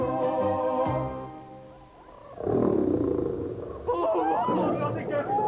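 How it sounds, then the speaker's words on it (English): A lion roars, with deep, rough growling bursts after a stretch of voiced, tonal sound, loud and close with some babble in the background. "Have you ever heard a lion roar?"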